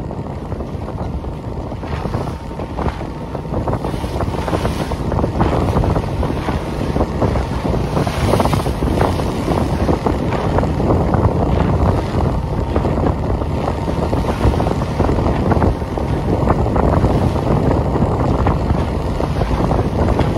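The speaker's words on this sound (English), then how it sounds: "Choppy day today. It's an easterly wind right on the nose." A choppy easterly wind blowing head-on against a sailboat in the British Virgin Islands, a loud, continuous roar of wind buffeting the microphone mixed with rushing water and waves, with no talk.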